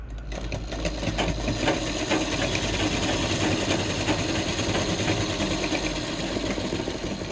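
Sewing machine running steadily as it stitches a dart along a garment's shoulder seam, a loud, close, continuous whirring motor hum with a fast, even needle rhythm and no voices.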